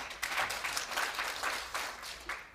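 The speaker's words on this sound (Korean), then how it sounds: "박수 한번 드리겠습니다." A seminar audience applauds in a hall, a moderate crowd clapping in loose rhythmic bursts that swell and ease, heard from a short distance.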